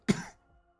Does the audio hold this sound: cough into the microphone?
yes